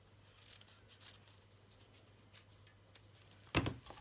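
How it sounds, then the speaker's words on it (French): A single brief snip of scissors cutting through ribbon, crafting a mini album, sharp and close near the end after a quiet stretch with a steady low hum. "Et je coupe mon ruban."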